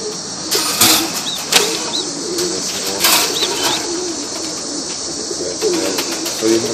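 Young tippler pigeons coo softly and repeatedly in a loft, with occasional wing flutters and background chatter.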